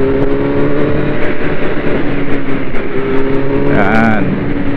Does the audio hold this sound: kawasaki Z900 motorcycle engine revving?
yes